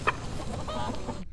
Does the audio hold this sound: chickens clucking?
yes